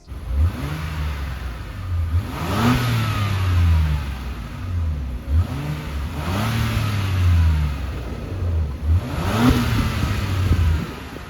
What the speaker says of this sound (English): that quad chrome exhaust outlet. Let's take a quick listen.